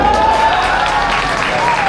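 A crowd at a Ganpati Utsav Garba celebration in Rajkot claps in a dense, continuous burst of applause, with a voice carrying over it.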